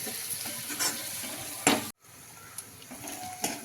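Onion, fenugreek leaves and spice masala sauté in a pan with a dense close sizzle and stirring scrapes, cut by a brief silent gap before the frying resumes, no talking.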